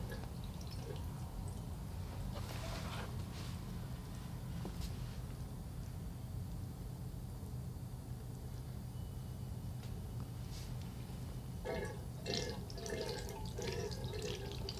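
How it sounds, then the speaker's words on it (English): Water trickles and drips steadily into the soil of a potted Alocasia and a container, soft and close, with a few louder splashes near the end. "So I'm doing now, watering it from the top."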